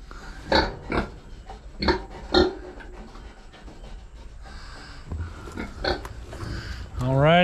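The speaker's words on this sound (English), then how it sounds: "We have pigs on the homestead." Several short snorting grunts from pigs close by, spaced irregularly, with a louder squeal at the end.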